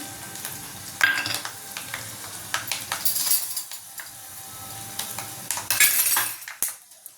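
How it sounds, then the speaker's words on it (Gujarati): Mustard seeds, cumin, bay leaf, cinnamon, cloves, fenugreek and asafoetida tempering in hot oil for Kathiyawadi kadhi, crackling and sizzling in bursts with sharp pops and a few clinks of a utensil, close and moderately loud with no talk. "અને હવે વઘાર અહીંયા કરી લઈશું."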